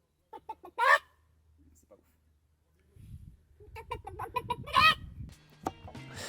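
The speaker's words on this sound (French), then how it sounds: "il y a des poules là-bas" Hens on a farm cluck in short bursts, first a few near calls, then after a quiet gap a busier run of clucking over low background noise and some talk.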